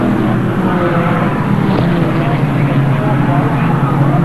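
Group E production touring cars from 1986 race at Winton, a steady loud engine roar from the field under continuous race commentary.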